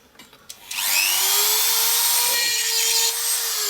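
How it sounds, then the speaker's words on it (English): A power drill spins up loud and close, holds a steady whine with a slight rise in pitch as it bores a hole, then settles near the end, after a few light knocks at the start. "We need to drill some holes in the middle of these."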